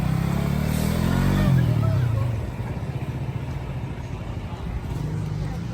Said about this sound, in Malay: Motor masih hidup